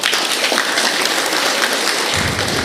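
Audience applause fills the hall at a speech, a dense, steady wash of clapping from many hands, loud and continuous throughout, with no talking over it.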